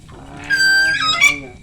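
Birds that sound like geese give a couple of loud, nasal honks close by, the second call shorter and higher. The honks stand alone against a quiet background, with no talking.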